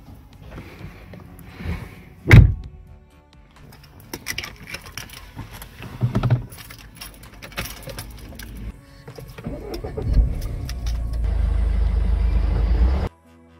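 Someone climbs into a car with keys jangling, shifting and rustling inside, then a door thumps shut and an engine starts into a steady, close idle rumble.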